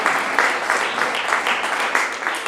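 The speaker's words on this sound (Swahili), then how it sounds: "Pigia Yesu makofi mazuri." A church congregation at a bishop's ordination ceremony claps loudly for Jesus, a steady, dense wall of applause that holds throughout without pauses.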